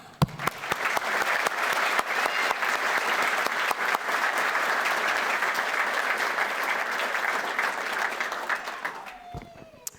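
Sustained applause from a large audience at a fire department recruit class graduation ceremony, steady dense clapping filling the room for about nine seconds before fading out near the end.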